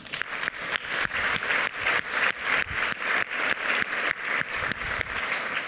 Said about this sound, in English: please give a round of applause for the people who are here that planned the events